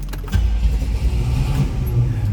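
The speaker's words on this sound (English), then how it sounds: "Let's go ahead and fire it up. Nice, smooth running car." A 1967 Oldsmobile Toronado's engine catches and settles into a steady, loud, close idle rumble.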